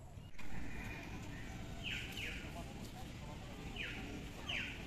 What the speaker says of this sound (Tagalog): Huni lang na ibon ang maririnig.